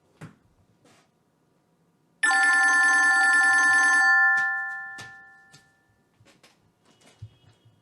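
A telephone rings in one sustained electronic burst that cuts off and then fades, and faint background noises follow.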